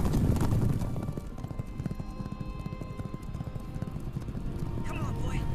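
Racehorse galloping in a race, hooves clip-clopping in a steady rapid rhythm under continuous loud crowd or commentary noise, with a brief whinny-like sound near the end.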